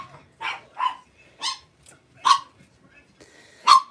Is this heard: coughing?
no